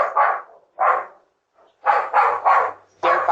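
Dogs barking near a doorbell camera, a series of clear, close barks in quick clusters with short gaps between them, no speech.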